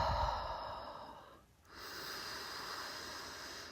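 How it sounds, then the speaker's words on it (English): Slow, steady breathing during a hatha yoga practice for the hips, a long airy inhale that fades into a brief pause before a smooth, even exhale, close and unaccompanied. "Nice, long, smooth inhales and exhales."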